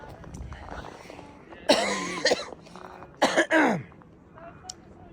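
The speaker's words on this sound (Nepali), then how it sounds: "मलाई खोकी लाग्यो।" Several harsh coughs in short bursts, close to the listener, with a throat-clearing sound among them and quiet background noise between.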